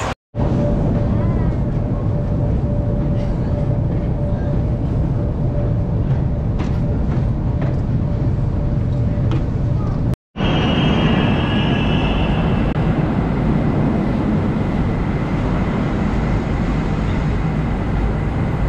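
Loud, continuous rumble of a Moscow metro train running through a tunnel, with a brief cut midway and a higher whine emerging in the second half.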